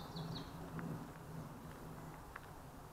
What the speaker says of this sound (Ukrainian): І дуже багато пташиного співу.